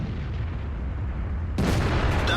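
Jagdtiger tank destroyer's main gun firing in World of Tanks, a single loud, sharp blast that bursts in abruptly after a low rumbling lull and rings out briefly.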